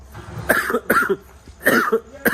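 A person with a cough from illness coughs about four times in short, rough bursts, close and fairly loud.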